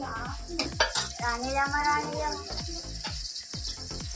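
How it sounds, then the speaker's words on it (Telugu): Paneer and cashews frying in ghee, a close sizzle under a fast run of metal spoon scrapes and knocks against the pan, with tonal squeaks and clinks in the middle and no clear speech. "పన్నీర్ తీసుకున్నాను, కొంచెం నెయ్యిలో ఇవన్నీ వేయించుతున్నాను. దోరగా వేయించుకోవాలి ఇవి."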